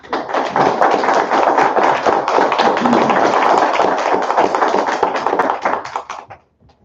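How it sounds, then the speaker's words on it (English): An audience at a city council meeting applauds a man named Lawrence after he receives a certificate of appreciation, with steady, loud clapping from many hands that holds for about six seconds, then fades out. "if everyone could give him a round of applause"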